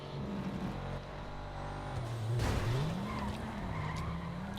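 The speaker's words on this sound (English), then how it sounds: "A crash." Tires skid and squeal as a car slides during a Grand Theft Auto Online race, with a sharp impact noise midway and engine drone continuing underneath, fairly faint overall.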